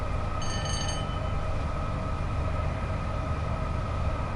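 A Pendolino train runs along the West Coast Main Line from Carlisle toward London in Train Sim World 6, giving a steady loud rumbling drone with sustained tonal whine and a brief high electronic beeping near the start.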